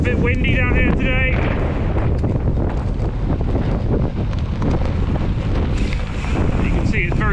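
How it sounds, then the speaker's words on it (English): Strong wind buffets the microphone during a cross-country mountain bike lap, a loud continuous rumbling roar that dominates throughout, with faint whistling tones now and then. "It's a bit windy down here today."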